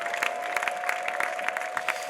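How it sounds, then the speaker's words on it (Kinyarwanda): A church congregation claps together during an evening worship service, a brisk, fairly close burst of applause with a steady tone ringing faintly underneath. "Ayo nayo ni amashyi tuguhaye Mana."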